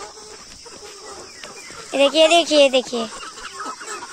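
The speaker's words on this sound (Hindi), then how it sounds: "इधर से भी मुर्गे आए जा रहे हैं यहाँ के लिए।" Chickens in a farmyard cluck and squawk in a loud close burst mid-way as they run toward food, with a person speaking over the scene.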